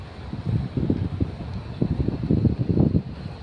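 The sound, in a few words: wind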